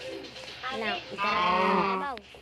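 Goat in a farming video game bleats twice in long, quavering, harmonic cries, loud and close, the second call louder and longer than the first, with a voice talking beneath.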